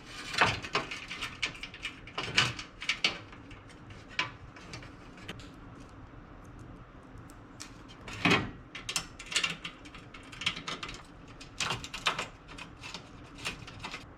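Front bolts being fitted to the lower air scoop of an Autozam AZ-1, a string of close metallic clicks and ratcheting taps in bursts with pauses between, alone without talk.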